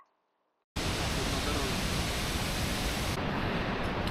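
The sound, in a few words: waterfall on the Annapurna Base Camp trek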